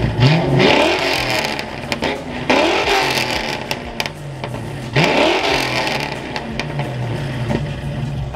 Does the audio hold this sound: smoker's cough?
no